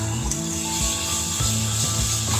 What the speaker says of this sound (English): We'll be using whisk this time so that